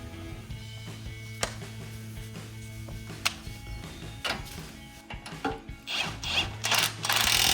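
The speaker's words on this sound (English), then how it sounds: "Again, yep, 21mm socket. Go on the impact driver." A 21mm socket on an impact driver works the tie rod on a 2009-2017 Ford F-150 front end, giving a steady mechanical whir with sharp clacks and rising bursts of rattling hits toward the end, close and with no talk.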